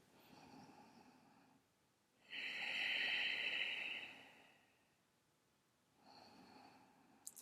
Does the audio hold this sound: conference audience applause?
no